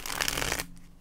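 A quick riffle of tarot cards being shuffled, a dense close-up flutter of card edges that lasts about half a second and then stops abruptly.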